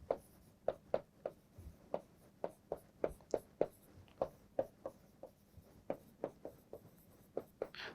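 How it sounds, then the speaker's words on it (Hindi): Chalk or marker writing on a board in a classroom lesson, a series of sharp tapping strokes and short scrapes, close and fairly regular, with no voices over it. "यहाँ लिख देते हैं।"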